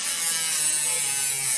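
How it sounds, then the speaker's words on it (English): A Worx MakerX cordless rotary tool runs at high speed with a steady, bright, whining buzz, close and constant through the brief moment with no voices. "Rotary tool, Dremel, actually a worx makerx cordless rotary, well, battery operated rotary tool."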